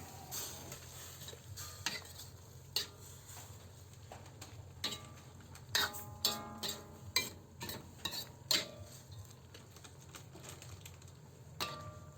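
Pancit canton noodles stirred in a sizzling pan: a steady frying hiss runs under irregular scraping and clinking utensil strokes against the pan, close and fairly quiet, with no talking.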